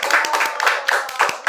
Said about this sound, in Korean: 이거 박수를 한번 쳐줘야 돼요.